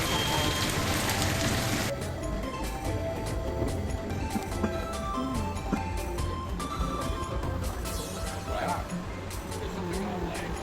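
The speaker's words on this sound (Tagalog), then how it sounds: "inabot lang ako ng ulan dito sa Chinatown" Rain pouring on a street in Chinatown, Singapore, a loud dense hiss of drops on hard surfaces that continues steadily throughout, with a faint passing car.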